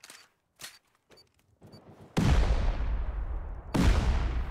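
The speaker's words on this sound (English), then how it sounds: "They're shooting." Gunfire in the survival video game Rust: a few sharp shots early on, then from about two seconds a loud sustained fusillade of rapid shooting with heavy rumbling booms, one fresh burst near the end.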